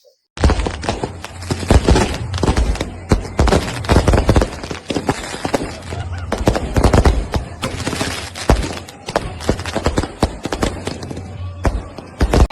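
Small matchstick-bomb firecrackers burst during Diwali: dense, rapid cracks and pops run almost continuously for several seconds, loud and close, with irregular clusters and brief gaps.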